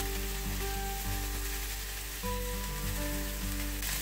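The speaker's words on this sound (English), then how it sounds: "I'm gonna flip it over so the other side could get some as well." Chorizo hash sizzles steadily in a hot pan as it is flipped, a dense crackling fry close up with faint background hum, and no voices.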